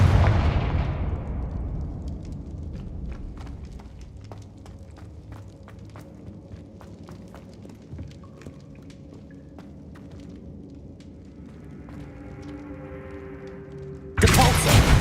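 A Confringo blasting spell in Hogwarts Legacy bursts at the start with a loud explosion that decays over about two seconds. Faint footsteps and game ambience follow, and another sharp blast hits at the very end.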